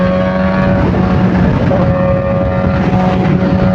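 Supercharged Kawasaki ZH2 motorcycle engine running hard while riding, a loud steady droning roar with wind buffeting and no clearly separate gear-change pops.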